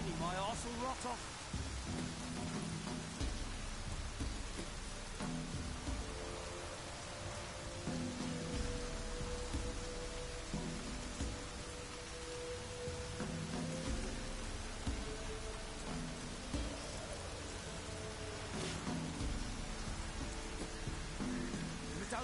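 Steady in-game rain from The Witcher falls continuously, a dense hiss layered with low rumbles and scattered tonal background sounds, running throughout at an even loudness.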